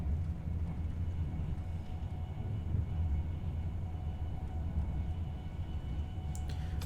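A train in Train Simulator 2021 runs the West Coast Main Line South from London to Birmingham at about 125 mph, giving a steady, continuous rumble of engine and wheels on rails that stays loud throughout, with no talk.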